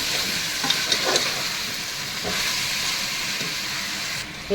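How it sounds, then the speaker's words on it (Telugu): Goat head meat fries in oil in a pan for a Telangana-style curry, giving a steady, close hiss broken by a few brief crackles and pops throughout, with no one speaking. "తలకాయ మాంసాన్ని మంచిగా నూనెలా మగ్గనిద్దాం"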